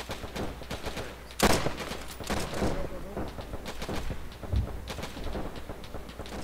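Gunfire in an Arma 3 military simulation battle at Monte Cassino: scattered rifle shots and short bursts at mid distance, with one louder close report, running continuously under radio-style chatter.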